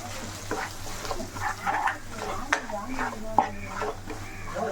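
Spices including turmeric powder being heated and stirred in a pan for a Kerala mango sardine curry, with soft scraping strokes and a faint sizzle over a low steady hum, a few sharp clicks of the spoon against the pan.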